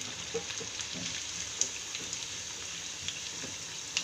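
Chicken laccha pakoda sizzles steadily in hot oil as it turns golden brown, a constant soft crackle with scattered small pops and no talking.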